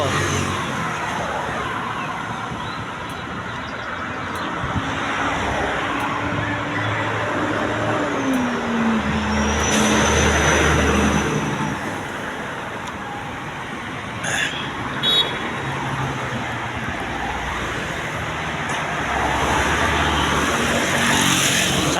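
Highway traffic rolls past steadily, cars and heavier trucks or buses swelling and fading nearby, with an air-brake hiss and a few higher whines over the constant road roar.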